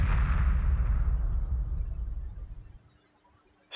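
A heavy blast from video game Homeworld 2 hits loud and low, then its long rumbling decay fades to near silence over a few seconds.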